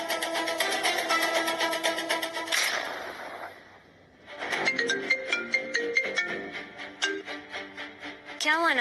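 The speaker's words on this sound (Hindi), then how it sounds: "देखो मुझे कौन फोन कर रहा है" A mobile phone rings with an incoming call, a loud melodic ringtone repeating phrase after phrase, cut off for a moment and then resuming with bright, rising notes.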